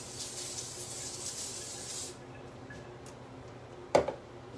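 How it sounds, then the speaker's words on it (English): Nonstick cooking spray misted over fish fillets on a pan: a soft continuous hiss for about two seconds, then quiet with one short burst near the end. "now we will actually spray this again, now that the fish is on there"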